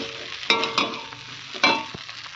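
A spoon stirs pasta with melted butter in a pan, giving a few soft scraping clatters over a faint steady sizzle, close by with no talking.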